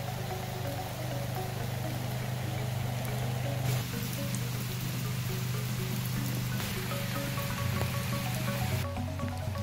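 Steady rain falls outdoors with dense, even hiss and patter on surfaces, mixed with a low continuous hum and faint tonal background, during a fishing trap setup with an umbrella-made trap; no talk.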